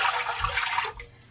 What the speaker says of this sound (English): we're going to go in with 2 cups of water